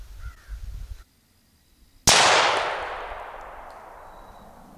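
A single FN P90 firing a 5.7x28mm round into a concrete block gives one sharp, loud crack after a short silence, followed by a long echoing decay.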